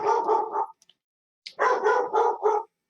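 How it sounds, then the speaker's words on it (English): Dogs bark in two quick bursts, several sharp yaps each, loud and close, separated by a short pause with a couple of faint ticks. "So we got the second wave of setting off the dogs here."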